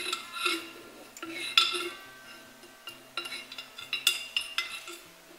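A utensil stirs lye solution into oils in a container for goat's milk soap, giving close, irregular clinks and scraping taps against the sides, some sharp and bright, with short pauses between strokes.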